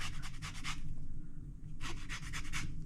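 Citrus fruit is zested against a grater in a home kitchen, giving quick, close rasping strokes in two bursts of about five to six each, separated by a short pause.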